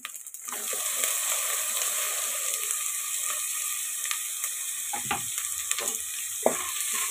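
Tomatoes frying in oil with ginger garlic paste in a pan, a continuous loud hissing sizzle with a few scraping stirs near the end.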